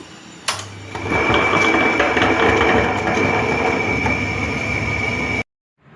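Wet grinder churning urad dal and rice batter, a steady, loud mechanical whir with a rhythmic rumble that starts after a knock and stops abruptly near the end.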